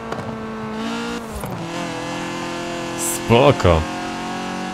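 A BMW E30 in Forza Horizon 4 heard from outside the car, its engine holding a steady tonal drone that shifts pitch and briefly revs harder near the end, with someone speaking over it.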